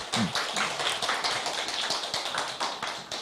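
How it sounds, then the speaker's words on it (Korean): Applause from an audience at a Korean talk session for a certified public accountant, many hands clapping steadily and densely at moderate distance, no voices over it. "박수 부탁드립니다"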